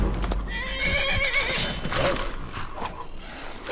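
A horse in a video game whinnies loudly over clip-clopping hooves, the neigh rising and falling close up for a few seconds with a faint mechanical ticking beneath.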